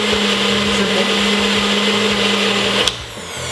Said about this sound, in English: In your bullet, like a food processor or blender as well.